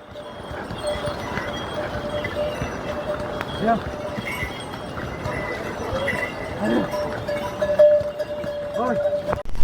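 Horse hooves clip-clop at an irregular pace along the mountain trail to Kedarnath, moderately close, while people talk over the steady outdoor background.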